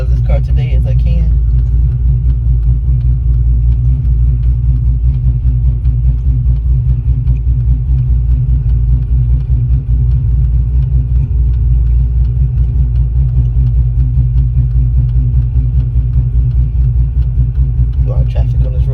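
A Pontiac GTO engine hums and rumbles steadily from inside the car while it drives on a busy road, with a loud low drone throughout.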